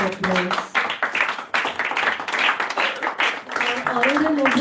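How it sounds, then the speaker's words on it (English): Audience applause at a business networking meet fills the whole stretch as a steady crackling wash, with an amplified voice talking over it at the start and again near the end. "A big round of applause."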